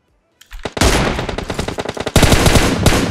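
Rapid automatic gunfire in PUBG Mobile, starting abruptly after a brief quiet moment and rattling on in loud, close bursts of sharp repeated shots, with a denser volley near the end and no talking.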